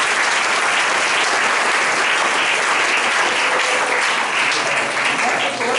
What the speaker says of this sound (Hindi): जवानों के लिए ताली बजाकर स्वागत करेंगे।